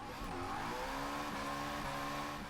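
A drift car in Forza Motorsport 6 at Road Atlanta spins its wheels in first gear: a sustained, steady engine roar layered with continuous tire squeal and a faint high whine, constant in loudness throughout.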